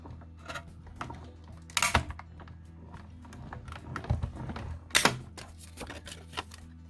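A die-cutting machine feeds a clear plate sandwich with a die through for card making, giving irregular clicks, thumps and rolling crunches spread across the stretch, fairly close and with no voices.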